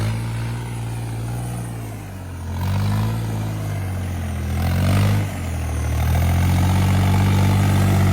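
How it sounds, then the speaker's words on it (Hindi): A tractor runs with its full weight on a muddy track, its heavy engine drone steady and close, swelling and easing a few times under labored load. "देखो पूरा वेट है ट्रैक्टर का पेट लग के चल रहा।"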